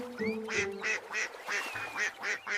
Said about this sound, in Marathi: एका तळ्यात होती बदके सुरेख, लहान लहान खेळत होती पाण्यात.